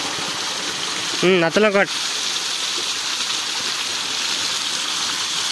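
Water sprays steadily from a hose while a trolley rotavator is washed, a loud continuous hiss that fills the whole clip, with someone briefly talking over it.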